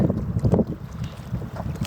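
Strong wind gusts buffet the microphone beside a high mountain lake, a heavy low rumble swelling and easing in uneven surges, with no talking.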